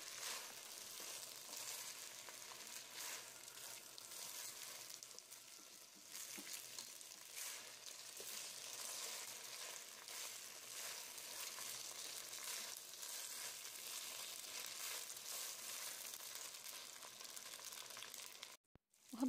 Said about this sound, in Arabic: هنحطه على الزيت ونقلبه كده يتحمر شوية